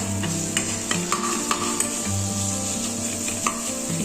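Chili paste is stirred into potato and capsicum pieces in a pan with soft, repeated scraping and tapping of a spoon over a steady background hum and a faint sizzle.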